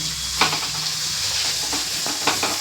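Chopped raw mango fries in a pan for chitranna, with a continuous close sizzle and a few sharp stirring scrapes.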